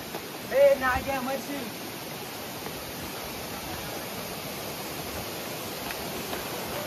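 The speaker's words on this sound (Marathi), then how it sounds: "हे बघा धबधबा." Steady broadband rush of a waterfall near Ratangad fort in misty monsoon hills, moderately loud and continuous, with a brief voice in the first second and a half.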